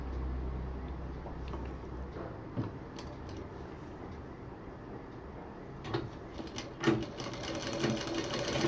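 A sewing machine runs a steady double line of stitching on a round cushion, its motor whirring continuously with a few louder clunks and bursts of handling near the end.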